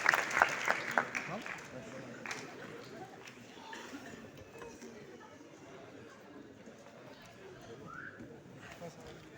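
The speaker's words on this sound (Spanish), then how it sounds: "Un aplauso, chiquillos, para ella." Students applaud in a school hall, a short burst of clapping up front that fades quickly into low murmuring chatter.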